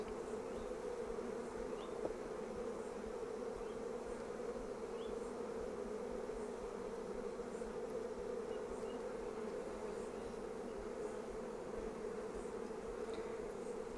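A steady, dense buzzing of many honey bees at a nuc hive, continuous and fairly loud throughout with no gaps.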